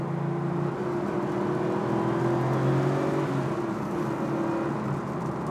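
Porsche 993 GT2 flat-six engine pulls hard under acceleration, a steady rising drone heard from inside the car with road and wind noise, no talking.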